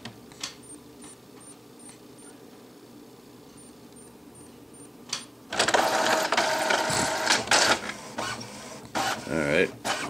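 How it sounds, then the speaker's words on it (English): HP printer stuck in alignment mode suddenly whirs into action, loud mechanical feeding and clattering printing noises after a quieter stretch of faint clicks and a brief voice. "It's printing."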